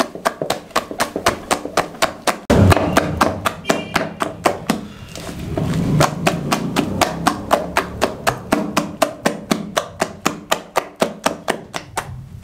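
Besan batter for dahi bhalle is beaten by hand in a bowl, making a loud, steady run of rhythmic wet slaps, a few per second, continuing without pause.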